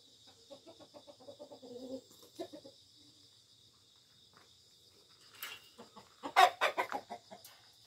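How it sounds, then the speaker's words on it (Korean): A brooding hen sitting on chicks, clucking in soft low runs of murmuring clucks, then a louder burst of calls later, close by, with a steady insect chirr throughout and no talk. "아유, 더운데 병아리 품고 있어."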